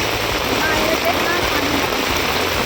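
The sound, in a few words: flash floodwater flowing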